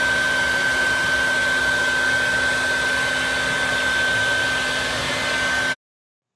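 A vacuum cleaner runs steadily, sucking up honeybees that have invaded a mudroom; a loud, constant motor whine with a high tonal hum holds for several seconds, then cuts off abruptly, with no talking.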